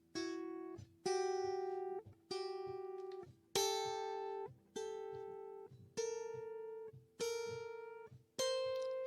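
Guitar striking a sequence of seven sustained chords, alternating seventh and major seventh voicings from a symmetrical diminished pattern, each ringing about a second before the next, close and clean, with no talking.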